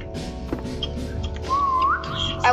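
A player whistles in the Roblox game 3008, a clear rising tone that slides upward over about a second, heard over steady background game noise and faint clicks.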